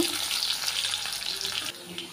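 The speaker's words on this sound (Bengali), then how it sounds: "গ্যাসের ফ্লেমটা মিডিয়ামে রেখে লাল করে আলুটাও ভেজে তুলব" Thin potato slices fry in oil over a medium gas flame, giving a steady soft sizzle with faint stirring, fairly quiet and fading slightly at the end.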